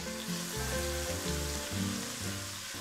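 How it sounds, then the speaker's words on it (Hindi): Crushed garlic and ginger frying in hot oil while cooking spicy chicken noodles give a steady, busy sizzle that stays even throughout the short stretch, with no voices. "अब हमने इसके अंदर कुटा हुआ लहसुन और कुटा हुआ अदरक डाला"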